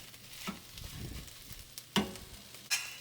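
Onions and peppers frying with eggs in a pan for a quick breakfast give a quiet, steady sizzle, broken by three sharp utensil clacks against the pan.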